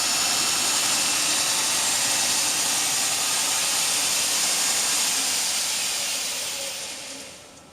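Motor of a 2x72 belt grinder running steadily with a loud, broad, even whoosh and hum close by, then winding down near the end.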